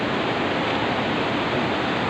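Fast-flowing river water rushes through a village in Sawang, North Aceh, making a loud, steady, unbroken roar of broadband noise close by.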